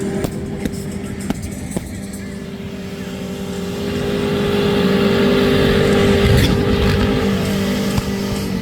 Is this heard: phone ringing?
no